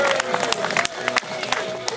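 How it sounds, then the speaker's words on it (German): Applause and scattered cheering from spectators in the stand at the opening of a new sports field in Burg Stargard, right after the ceremonial kickoff, a steady broad wash of clapping with sharp individual claps standing out. "Ich erwarte einen Applaus auch von der Tribüne."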